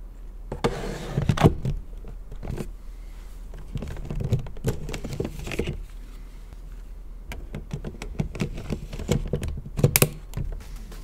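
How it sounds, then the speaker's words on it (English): Nintendo Switch controller buttons click and slide in quick, uneven bursts of small plastic clacks and snaps, close and fairly quiet, with short pauses between clusters. "All that clickety-clack, little spring-loaded button to release these things"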